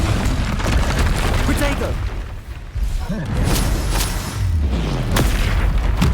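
Heavy booming blasts from Confringo fire spells in Hogwarts Legacy roll through continuous combat noise, loud and near, while a voice shouts over the fighting.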